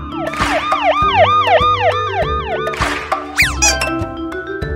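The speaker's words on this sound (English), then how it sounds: "The police car." A police siren wails in fast, repeating up-and-down sweeps, loud and close, with musical tones underneath and a rising electronic swoop near the end.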